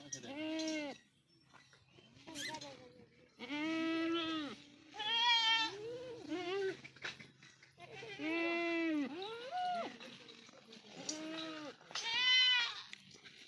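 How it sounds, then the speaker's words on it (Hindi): Two young red male goats, about five months old, bleat repeatedly in loud, close, wavering calls with short pauses between them, while a person speaks at times between the cries. "एक ये बकरा है, एक दूसरा बकरा है ना, ये दोनों लाल बकरे हैं"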